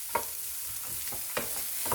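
Onion sizzles steadily in a hot pan while a utensil stirs it, scraping in a few distinct strokes.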